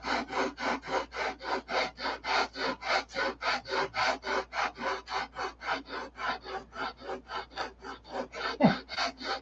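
Sandpaper rasps back and forth over an inboard boat part in a steady, even rhythm of about three strokes per second, close and clear with no talk, one sharper knock near the end.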